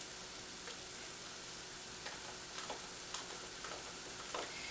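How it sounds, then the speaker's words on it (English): Gravy of dried beef with milk and flour simmering in a pan, giving a steady soft sizzle with faint scraping ticks of a whisk, close and continuous with no talking. "So you're going to keep whisking"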